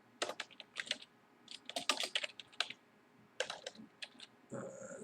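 Rapid typing on a computer keyboard while working in AutoCAD Architecture: close, crisp keystrokes in irregular bursts with short pauses, heard alone without any talking.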